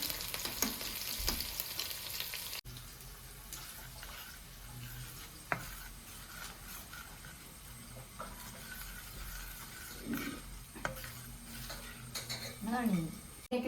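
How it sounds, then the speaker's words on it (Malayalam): Small onions (shallots) frying in a pan give a steady sizzle, with a spoon scraping and clinking against the pan now and then, a brief louder burst at the start and faint background noise. "ചെറിയ ഉള്ളി ഇതുപോലെ മൂപ്പിച്ചിടാണ്."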